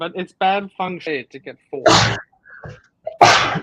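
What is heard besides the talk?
sneeze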